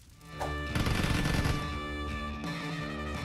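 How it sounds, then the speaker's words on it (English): Rapid automatic gunfire in a squad-based shooter video game, a loud dense burst of shots followed by a sustained rumbling tail. "Shots fired."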